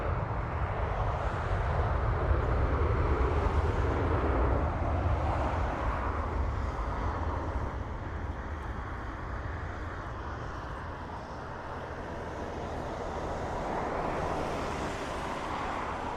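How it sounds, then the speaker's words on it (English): An airliner landing at Dublin Airport with thrust reverser buckets opening, heard from a distance as a broad roaring rush that swells and then slowly fades as the aircraft slows, with no voices. "Buckets on the back opening. Help slow the aircraft down."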